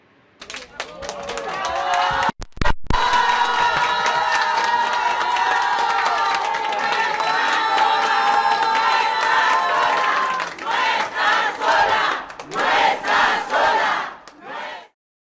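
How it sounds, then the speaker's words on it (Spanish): Crowd of judicial workers at a demonstration applauding and cheering to welcome the chief justice, a loud sustained roar of shouts and voices, with a sharp break early and bursts of chanting toward the end. "En medio de la manifestación, recibieron con aplausos y porras a la ministra presidenta Norma Lucía Piña"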